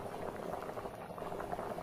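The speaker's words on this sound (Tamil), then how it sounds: "குழம்பு கொதிக்க ஆரம்பிச்சிடுச்சுங்க" Andhra-style kora meen fish curry simmers in a pot, giving a faint, steady bubbling with no voices.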